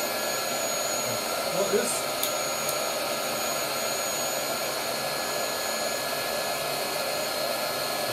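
A biogas blow torch is lit and its flame roars steadily as a broad, continuous rush, with a brief quiet spoken remark over it near the start.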